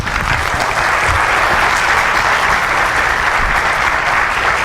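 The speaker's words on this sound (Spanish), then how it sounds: "un fuerte aplauso" Loud, dense applause from a seminar audience rolls on continuously and evenly, a close, full wash of clapping with no speech over it.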